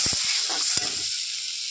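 Soaked peanuts tossed into a frying pan set off a close, bright hissing sizzle, with a few quick knocks and stirring clatters at the start before the sizzle settles into a steady hiss.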